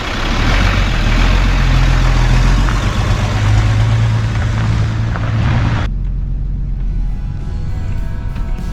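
The diesel engine of a 1987 Toyota HJ60 truck drones loud and steady on a test drive, with heavy low rumble and road noise that drops suddenly partway through while the engine keeps running.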